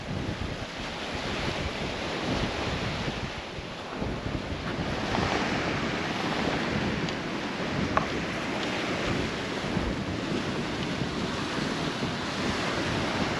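Steady surf washing onto a beach, a continuous broad roar with gusts of wind buffeting the microphone throughout; no voices.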